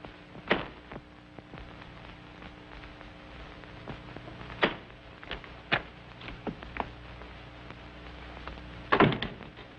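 A bolted door in an old 1936 film scene, heard as scattered sharp knocks and thuds over a steady hum, with one louder clunk early and a heavier clatter near the end.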